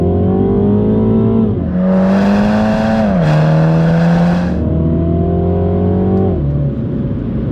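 A 2021 Mini Cooper JCW with an 8-speed automatic gearbox accelerates hard from inside the cabin, its engine note rising steadily through gears with quick dips at each upshift, loud and droning throughout.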